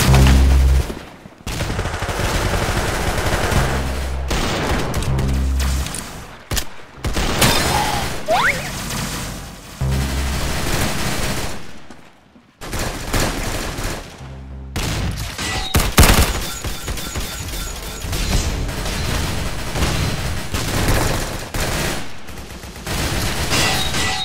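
Rapid gunfire in the Roblox shooter Arsenal, with dense bursts of shots, reloads and mechanical clicks that keep going almost without pause, with a few short gaps and no talk.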